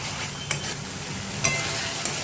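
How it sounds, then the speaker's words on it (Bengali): A spoon stirs fried onion and spice masala in hot oil, a steady close sizzle with a few sharper scrapes and clinks at intervals, no voices. "খুব ভালোভাবে নাড়তে হবে যতক্ষণ না তেল বেরোচ্ছে"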